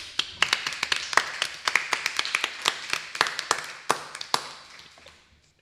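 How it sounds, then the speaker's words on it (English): A small live audience claps at the close of an event, with sparse, uneven hand claps from a handful of people close by that thin out and fade within a few seconds. "let's have a concert of virtual and real applause then"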